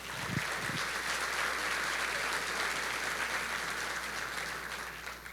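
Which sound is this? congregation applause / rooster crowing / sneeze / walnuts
congregation applause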